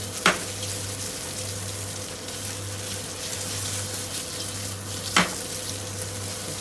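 Food sizzles and fries in a pan as it caramelizes, a steady close crackle under a low hum, with two sharp scraping clacks of a utensil stirring the bottom of the pan.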